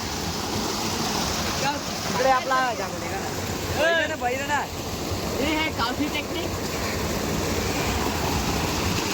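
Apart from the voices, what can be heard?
water gushing out strongly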